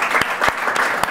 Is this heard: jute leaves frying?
no